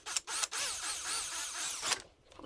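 A 2.5mm drill bit spins up and bores into an ARRMA Notorious V6 RC car part, a close whining drone lasting about two seconds before cutting off, with a few short bursts at the start.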